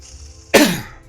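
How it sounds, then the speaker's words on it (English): A single sharp, close cough bursts out once and trails off quickly. "I'm going to cough again."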